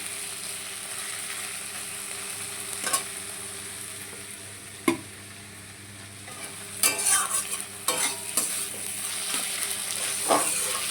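Food fries in a pan near the end of cooking, a steady background sizzle punctuated by occasional sharp stirring scrapes and clinks.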